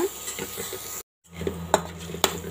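Potato bonda filling sautéing in a pan, a soft sizzle with spoon scrapes and light clinks against the metal, interrupted by a brief silent gap before the stirring and sizzling resume.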